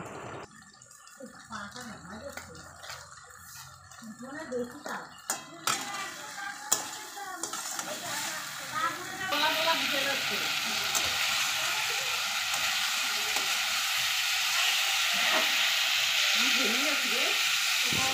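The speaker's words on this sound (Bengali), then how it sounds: "কিছুক্ষণের জন্য গ্যাসটা লো ফ্লেমে রেখে এটাকে ভালো করে তেল ছাড়া পর্যন্ত কষাতে থাকবো" Tomato stir-fried in oil on a low gas flame: a steady frying hiss that swells and becomes louder and continuous in the second half, with occasional spatula clinks and a voice talking over it early on.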